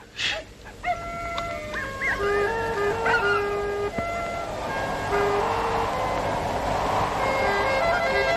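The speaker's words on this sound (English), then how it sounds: "Dogs are noisy tonight." Dogs howling and barking at night on a windy evening, the tonal wails rising and falling in overlapping layers over steady wind noise, fairly distant and continuous.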